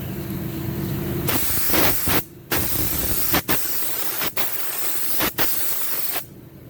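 A spray gun sprays primer onto an Aeromarine Conquest aircraft part in a loud, broad hiss, cut into several bursts by brief pauses, with no talk.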